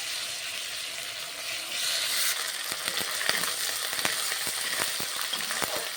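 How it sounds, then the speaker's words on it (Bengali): Onion fries in a pan with garlic paste and ginger paste for a Bengali banana flower curry, giving a steady close sizzle that grows louder midway, broken by occasional sharp stirring clicks, with no talking. "এরপর আমি এর মধ্যে দিয়ে দেব রসুন বাটা, দিয়ে দিচ্ছি আদা বাটা, দিয়ে ভালো করে আবারও একটু ভেজে নিতে হবে"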